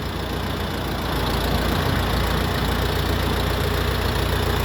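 A Dongfeng 404 tractor fitted with a front loader runs while being loaded for shipment, its engine giving a loud, steady close rumble with a busy mechanical clatter that holds throughout.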